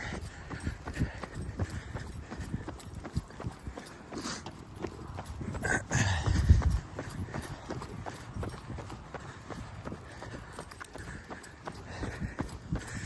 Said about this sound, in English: Yeah, that's a horse.